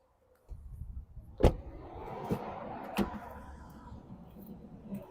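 Power windows of a 2012 Honda CR-V diesel run with a steady low motor whir after a sharp click, marked by a few crisp clicks and thumps as the glass stops, close inside the cabin with no speech.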